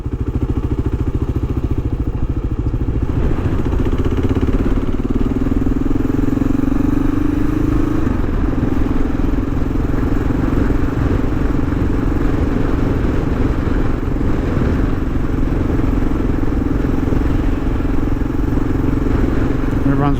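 A motorcycle rides around suburban streets and a roundabout, its engine a loud, steady, close drone with a rumbling low thrum and wind noise throughout.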